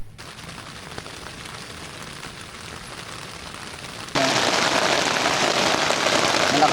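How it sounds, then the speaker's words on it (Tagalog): Steady rain hisses throughout, then abruptly grows much louder and denser partway through, a heavy close downpour drumming on a surface. "Malakas ang ulan."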